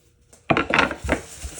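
A dish set down into a kitchen sink with a sharp clatter, followed by a second smaller knock, close and brief after a quiet start.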